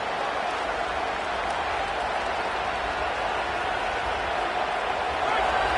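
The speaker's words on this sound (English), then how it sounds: "This crowd trying to make life miserable for this offense." A large stadium crowd at a football game roars in a dense, continuous wash of cheering and noise, steady and loud throughout, swelling slightly at the end.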